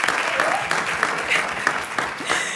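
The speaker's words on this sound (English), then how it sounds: "That's the cue applause." Audience applause at a conference session, steady dense clapping throughout at moderate loudness.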